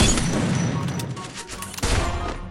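Gunfire from a sniper rifle in a PC shooter game, with several sharp reports and booming echoes layered over a busy in-game background.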